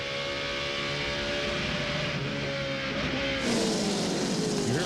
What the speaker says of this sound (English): You could hear him downshifting going into turn 1.